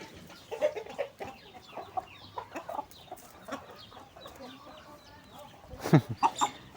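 Scattered soft clucks and pecking noises from a few nearby chickens feeding outside beside cattle, ending in a louder burst of squawks.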